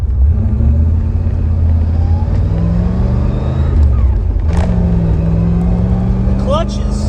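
A Trans Am with a 305 engine accelerating, a steady loud low engine drone rising in pitch through the gears from inside the car, with someone talking over it.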